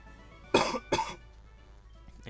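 Two quick, forceful coughs close to the microphone, one right after the other, followed by quiet room tone with faint small noises.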